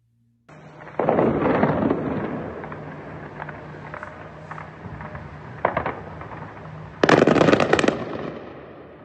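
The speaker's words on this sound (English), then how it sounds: "You can hear the anti-drone fire going up." Booming explosions rumble and crackle in the distance, with bursts of rapid anti-drone gunfire popping and rising in waves, loud and echoing, with no one speaking.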